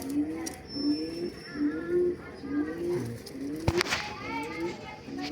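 Highflyer pigeons coo repeatedly, with soft rolling calls in a steady rhythm close by, while someone talks in the background.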